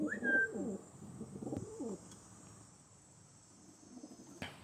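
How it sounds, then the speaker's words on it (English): Pigeons coo outdoors in low, rolling, throaty phrases, a few close bursts at first that fade, with faint insect-like hiss and quiet surroundings after. "Pigeons."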